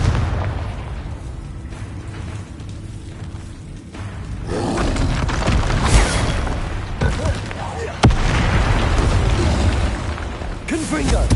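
A Confringo fire-blast spell explodes in Hogwarts Legacy, a video game, with booming bursts over a dense combat din. A sharp blast strikes midway, and voices run underneath.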